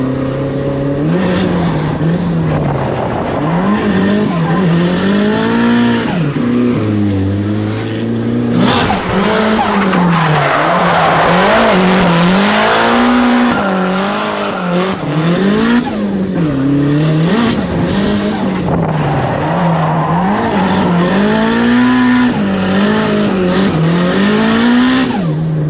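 A car with a welded differential and no exhaust drifts around a backyard racetrack, engine revving loud and close as tyres squeal through repeated slides, continuous for the whole stretch.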